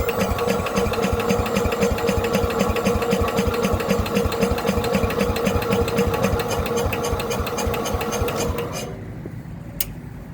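A Case tractor engine runs on partial choke with a fast, steady mechanical chatter, then shuts off abruptly near the end, leaving near silence.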